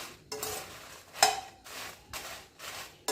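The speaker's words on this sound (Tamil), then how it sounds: "மிளகாய் நல்ல கலர் மாறாக சிம்மில் வச்சு வறுத்துக்கிடுங்க" Dry red chillies roasted in a pan over a low flame with no oil, stirred in short bursts of clattering, scraping strokes separated by brief pauses, close and fairly quiet.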